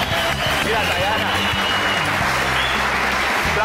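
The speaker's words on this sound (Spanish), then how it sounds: "eso merece un fuerte aplauso" Studio audience of a Latin American Saturday comedy show applauds loudly and continuously, a thick burst of clapping over an underlying music bed with low rhythmic tones.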